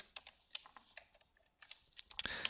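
Quiet, close keystrokes patter on a computer keyboard in short irregular bursts, with a quicker flurry of clicks at the end.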